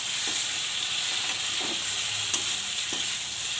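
Drumstick stalks and coconut curry simmer in a covered pan, a steady close sizzle and hiss with a few faint stirring knocks.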